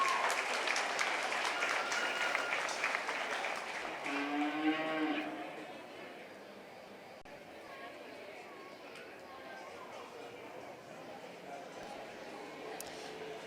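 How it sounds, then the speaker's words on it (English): Loud applause fills a county fair beef show ring for several seconds, a Scottish Highlander heifer lowing through it, before the clapping fades into quieter crowd murmur. "Let's give her and this Scottish Highlander a nice round of applause"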